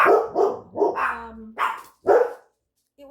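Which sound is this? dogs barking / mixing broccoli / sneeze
dogs barking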